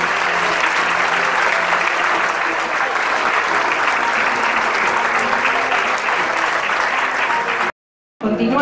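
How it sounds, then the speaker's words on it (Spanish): An audience at an award ceremony applauds a recipient of the Ugarit 2018 mention for art and culture, sustained dense clapping filling the room loudly for several seconds before cutting out abruptly near the end. "Continúa el aplauso"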